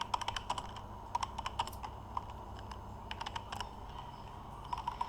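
Keyboard keys clatter in irregular bursts of quick clicks while someone types in a Roblox chat, fairly close but modest in level, with short pauses between runs and no talk.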